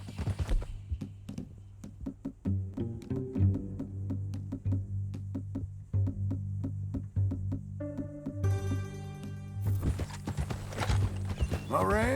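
Hooves clip-clop in a steady walking rhythm from a horse in the video game Red Dead Redemption II, close and clear over a low ambient hum, with a horse's whinny rising near the end.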